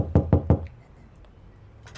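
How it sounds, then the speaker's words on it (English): Three hard knocks on a front door land in quick succession, loud and close, followed by quiet room tone and a faint rustle at the end. "I knock again, harder."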